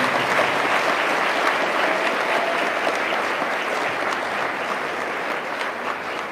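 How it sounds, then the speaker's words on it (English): An audience at an induction ceremony for newly qualified and registered pharmacists gives a sustained round of applause, steady and dense clapping from a sizable crowd with no talk over it. "let's give a round of applause for ACP"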